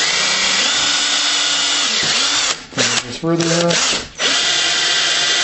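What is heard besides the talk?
power drill drilling through material with 5/16 inch bit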